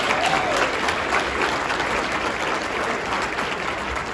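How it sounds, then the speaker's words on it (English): Audience at the Guelph State of the City Address 2025 applauding the staff, a dense, continuous round of clapping from a large crowd filling the room without a break. "please give my staff a round of applause"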